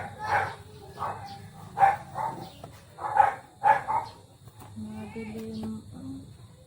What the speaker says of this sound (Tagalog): Magulo rin yung mga aso sa kapitbahay.